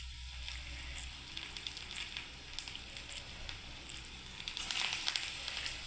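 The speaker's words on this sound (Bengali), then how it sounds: "তেল গরম হয়ে গেছে বন্ধুরা, এবার আমি গোল গোল করে ইঁচড়ের বড়া ছেড়ে দিলাম বন্ধুরা।" Round jackfruit fritters dropped into hot oil, a faint, steady sizzle with scattered small crackles and pops, no talking.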